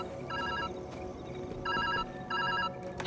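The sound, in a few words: telephone ringing in the video game Viewfinder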